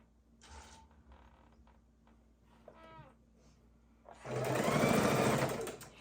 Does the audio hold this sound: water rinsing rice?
no